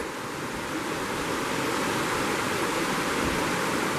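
The Cispus river flows steadily close by in October, a broad, even rush of water that stays loud and unchanging throughout with no voices.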